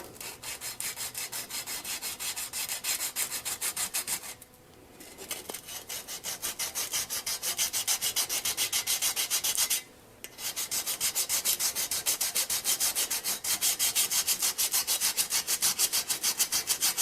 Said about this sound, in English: So, all right, so I got some 220 sandpaper on here. So I'm going to work these areas that I filed a little bit.